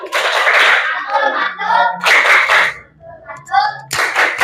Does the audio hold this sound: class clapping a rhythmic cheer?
yes